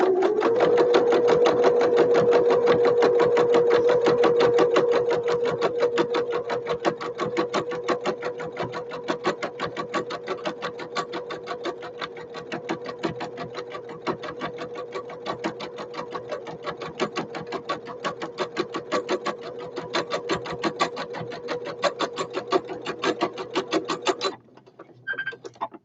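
A sewing machine runs a long straight stitch along a toiletry bag, a steady rapid mechanical chatter with a constant motor hum, close and continuous for about twenty-five seconds before stopping briefly near the end.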